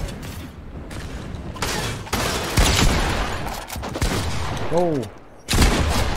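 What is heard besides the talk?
gunfire in the video game Fortnite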